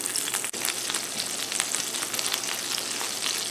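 An egg frying in butter in a pan, a loud, close, crackling sizzle that holds steady throughout the short stretch, with no one speaking.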